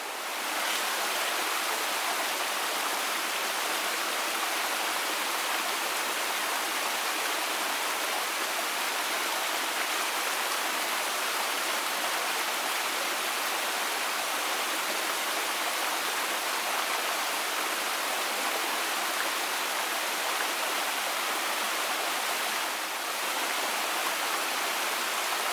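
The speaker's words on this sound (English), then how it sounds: "It's a nice little set of falls, but great area in here." A small waterfall at Crowe Meadow Falls pours into a little river, giving a steady, dense rush of water that stays loud and even throughout with no voices.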